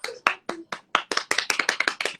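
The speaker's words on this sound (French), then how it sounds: "Applaudissez." Sharp hand claps from a few people at a rap battle, starting as scattered single claps and then settling into a quick, regular rhythm, close and clear.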